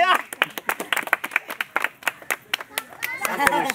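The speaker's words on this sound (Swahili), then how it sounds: "Makofi jamani!" An audience claps at a parliamentary candidate's campaign event, with quick, uneven bursts of hand claps close by and voices mixed in.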